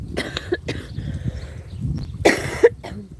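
A few harsh, close coughs, with a sharp burst near the end and quieter throaty sounds between them.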